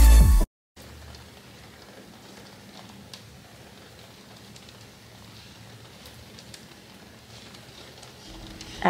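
Rain falling outside a Victorian house in Napa, a soft, even patter that carries on steadily after a brief opening burst and a moment of silence.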